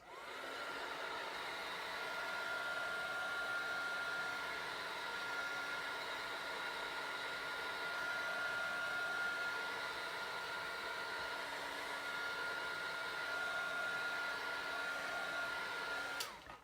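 A hair dryer blows over alcohol ink artwork, a steady, close whooshing drone with a constant whine that runs unbroken for about sixteen seconds and cuts off at the end.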